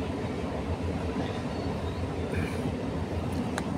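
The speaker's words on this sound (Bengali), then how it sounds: "আমাদের বাড়ির সামনে যে ট্রেন যাচ্ছে দেখুন" A train passes a house about 100 feet away, its low, steady rumble rolling on continuously at a moderate distance with faint clatter and no talk.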